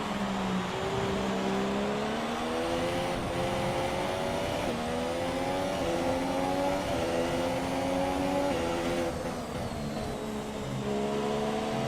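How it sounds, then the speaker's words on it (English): F1 2017 race cars on the Russia circuit in the video game, a continuous loud engine whine with rising and falling pitch sweeps as the cars run through the pit lane, no voices. "Cars in the pit lane."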